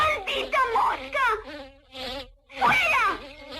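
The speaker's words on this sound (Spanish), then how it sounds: "¡Maldita mosca!" A buzzing fly in a cartoon hovers close and loud with a wavering, whining drone, swooping up and down in pitch over a few seconds and briefly dropping away midway.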